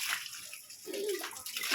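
Well water in a rural province splashes and sloshes steadily, a close, continuous wet wash with a brief brighter gush midway, as if poured or drawn by hand.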